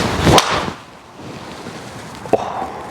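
Two sharp cracks of a golf driver striking a ball, one loud and close, a second fainter one a couple of seconds later.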